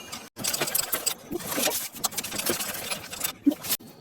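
A pedal-driven sewing machine stitches lines on practice paper in a tailoring class, its needle whirring in short bursts broken by brief pauses, close and clear.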